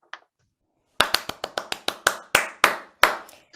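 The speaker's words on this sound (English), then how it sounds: "Big round of applause for the MTO Sustainability Project." Sharp, separate hand claps ring out at a faith and belief awards ceremony, about a dozen close, crisp claps in a quick uneven run after a brief pause.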